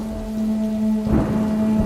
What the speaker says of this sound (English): When suddenly there was a loud clap of thunder with lightning